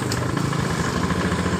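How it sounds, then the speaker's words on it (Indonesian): A Honda Beat ESP scooter engine idles close by with a steady, throbbing rumble and light mechanical clatter; it runs normally but stalls when the throttle is opened. "Motor hidup dengan normal"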